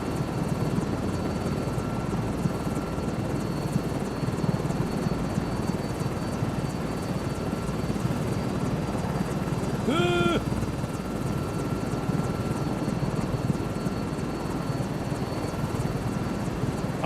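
A helicopter hovering in Microsoft Flight Simulator 2024, a steady, loud rotor and engine drone throughout with a brief tonal beep around the middle.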